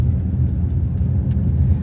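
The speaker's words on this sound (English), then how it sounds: "So I'm driving." A car on winding West Virginia roads gives a steady low engine and road rumble from inside the cabin, constant and fairly loud, with a brief faint jingle partway through.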